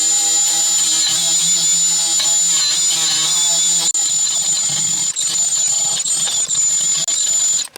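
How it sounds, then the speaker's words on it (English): A 1-inch Roloc abrasive wheel on a power tool grinds rust off the brake hub of a 2018 Honda Accord, giving a loud, steady high-pitched whine with squealing overtones that roughens and fluctuates partway through as it bites into the metal. "These little 1-inch Roloc wheels are really handy for getting in and cleaning up something like this."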